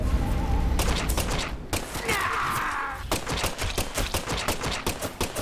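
Rapid bursts of gunfire in the Deadly Premonition 2 video game, loud and dense, with repeated sharp shots over several seconds.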